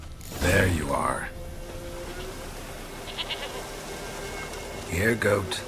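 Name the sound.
goat bleating in video game The Witcher 3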